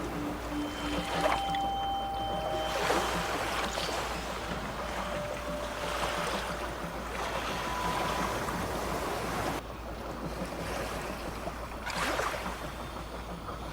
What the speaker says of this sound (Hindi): पुराना स्टीमर घरघराहट की आवाज के साथ धीरे धीरे नदी की ओर बढ़ने लगा।